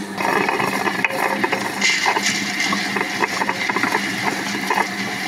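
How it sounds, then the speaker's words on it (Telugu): A kitchen mixer grinder grinding green chillies and ginger with lentils, a steady mechanical whir with rattling, clattering grinding close by, and no talk. "ఇలా కొంచెం పప్పు వేసుకొని ఒక 2 మినిట్స్ గ్రైండ్ చేసుకుందాం"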